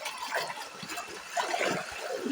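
A forest stream flows nearby with a continuous bubbling, splashing rush of water, fairly loud and steady, with no clear speech over it.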